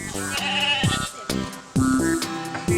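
Several goats bleat in turn at a zoo, wavering nasal cries close by, with short pauses and some background clatter between calls.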